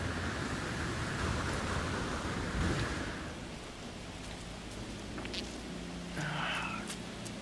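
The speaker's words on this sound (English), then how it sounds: "Let's get out of this acid rain." Acid rain pours steadily in the alien-planet game No Man's Sky, a dense hiss of falling drops with a low thunder rumble beneath, fairly close and continuous throughout.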